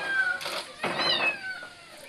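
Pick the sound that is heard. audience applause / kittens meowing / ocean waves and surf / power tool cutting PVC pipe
kittens meowing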